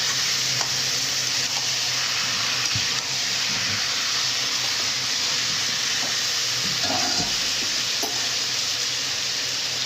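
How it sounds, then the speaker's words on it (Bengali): Mutton and onions sizzle and fry in a pan, with a continuous loud hiss and occasional soft scrapes and knocks of a spoon being stirred through the meat. "এবার ভালো করে পেঁয়াজের সঙ্গে মাটনটাকে একটু মিশিয়ে নেব।"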